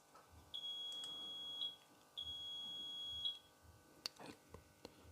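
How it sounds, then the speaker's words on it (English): Two long electronic beeps from a Rolls-Royce Silver Spirit alarm system, each sustained about a second with a short gap between, clear and fairly close, followed by a few faint clicks. "It just beeps twice."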